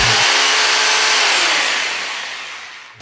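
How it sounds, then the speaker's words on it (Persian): A Ronix 2726 rotary hammer drill runs in hammer-drill mode with a loud, steady, close-up roar that fades slightly and cuts off at the end. "میبینیم علاوه بر ضربه‌ای که به مته وارد میشه، خود متن شروع به چرخیدن میکنه."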